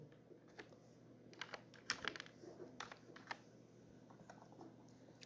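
Keys clack on a computer keyboard as a channel name is typed into a search box, with irregular bursts of close, quiet keystrokes and short pauses between words.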